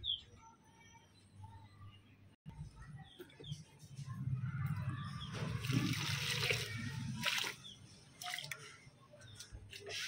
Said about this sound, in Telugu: ఇప్పుడు మనం వాటరింగ్ చేసేసుకుందాము